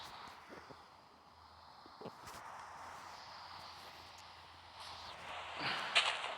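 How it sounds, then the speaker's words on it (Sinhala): Rain in the Minecraft survival game falls as a steady, even hiss throughout, at moderate loudness with no other clear sounds over it. "නයිස් තාම වහිනවා"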